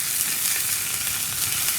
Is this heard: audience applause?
no